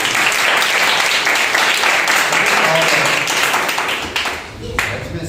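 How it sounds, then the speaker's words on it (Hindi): A church congregation claps loudly and steadily at a New Year first Sunday service, a dense wash of applause that thins and fades near the end as a voice comes in. "दिल से ताली बजा रहे हैं ऐसे ही।"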